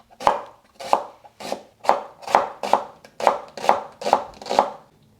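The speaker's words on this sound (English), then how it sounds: "I'm just going to slice it into thin slices." A knife cuts half an onion into thin slices on a board: about ten crisp, evenly spaced chops, close and clear, with quiet pauses between strokes and no talking.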